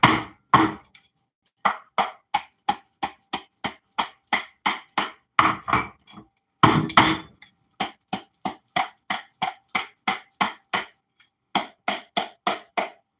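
Cake pan of batter repeatedly banged down on a counter to knock out bubbles: dozens of sharp metallic knocks in fast, regular bursts, with a few short pauses, close and fairly loud.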